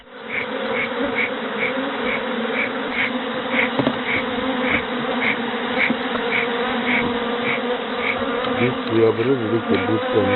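Honey bees buzz around hives at an apiary, a close, steady droning hum with a wavering pitch that carries through the whole clip, joined by faint pulsing tones and other low background noise.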